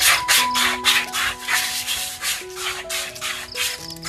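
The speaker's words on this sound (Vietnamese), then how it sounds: "Xoáy tay đánh thẳng này, xong rồi xoáy tay tròn như này, nó mịn, nó không còn gân tre nữa." Bamboo for a flute kite being sanded by hand, with quick, rhythmic rubbing strokes, straight and circular, repeating closely and loudly, plus faint steady tones in the background.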